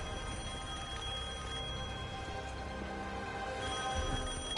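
An old phone ringing in Devil May Cry 5, a steady electronic bell tone repeating through the whole stretch over a dense, rumbling game backdrop, moderately loud and without talk.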